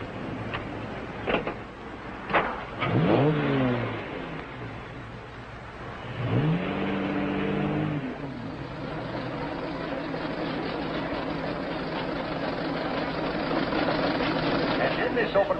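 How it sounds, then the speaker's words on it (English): Antique cars race, a Stanley Steamer and Model T among them, with engines rising and falling in passes and revving up loudly at moments, then settling into a steadier running drone. "Here is the Stanley Steamer, ready to defend its honor against the Model T."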